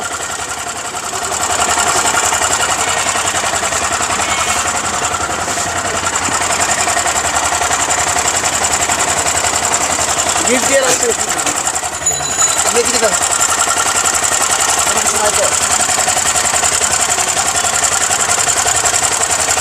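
A vehicle engine, mounted at the rear, runs with a steady rattling mechanical drone during a late-night joint forces checkpoint in the capital, with voices talking briefly over it.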